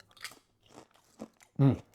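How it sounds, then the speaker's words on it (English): Crunchy salt and vinegar crisps are eaten up close, a few separate bites and crunches, the last one loudest and fullest. "Nice crunchy crisps."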